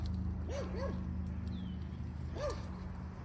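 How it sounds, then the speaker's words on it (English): A neighbor's dog gives a few distant barks in a home vegetable garden: two quick ones, then a single later bark, faint over a steady low background hum. "Neighbor's dog."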